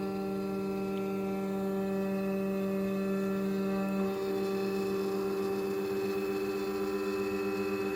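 A PCB milling machine runs steadily while tracing a circuit board, giving a constant tonal whir with layered harmonic hum and no speech.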